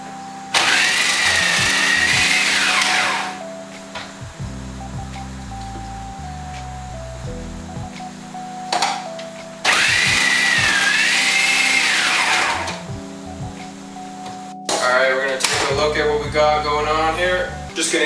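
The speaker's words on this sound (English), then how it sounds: "we're gonna go ahead and plop some beets in here and get shredding" A food processor shreds raw beets, its motor whirring loudly in bursts that stop and restart several times, with quieter gaps between runs and a voice briefly heard in the pauses.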